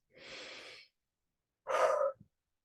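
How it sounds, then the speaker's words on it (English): A person takes a slow, deep breath in through the nose, followed after a pause by a louder breath, close and quiet with no talking. "So breathing in through the nose"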